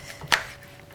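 A knife cuts rhubarb into bite-sized pieces on a board: a single sharp chop stands out against a quiet kitchen background.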